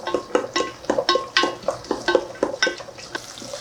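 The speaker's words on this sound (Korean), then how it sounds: "마늘이 이제 살짝 볶아졌잖아요." Garlic sautés lightly in two tablespoons of cooking oil in a pan, with a soft sizzle under a rhythmic series of close scraping and stirring strokes.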